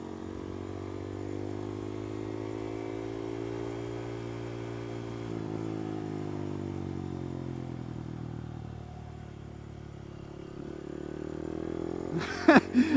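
A 2015 Honda Grom motorcycle being ridden, its small engine droning steadily with shifting pitch and a dip midway, then a few sharp clattering knocks near the end.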